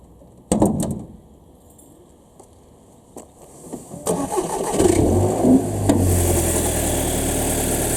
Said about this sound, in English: So first I'm going to show you the engine running.